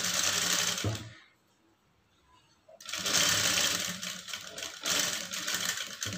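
A sewing machine stitches a blouse lining in two loud, rapid whirring runs separated by a pause of about a second and a half, close-up and with no talking.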